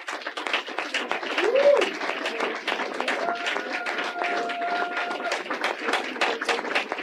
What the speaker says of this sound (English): she got a resounding round of applause from the front of the room